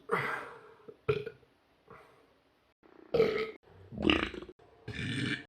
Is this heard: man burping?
yes